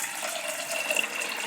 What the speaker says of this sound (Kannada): ಹಲಸಂದಿ ಮುಳುಗಷ್ಟು ನೀರು ಹಾಕ್ಕೊಳ್ಳಿ.